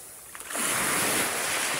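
Sea waves build at the beach at Malabor, Tibiao, Antique. A faint lapping swells into a broad, steady rush of surf.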